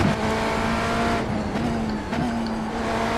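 Engine of a GT3 race car in the iRacing sim, a steady loud drone holding one pitch with brief dips and shifts as it runs, no talk over it.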